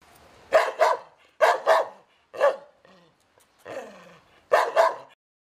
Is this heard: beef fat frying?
no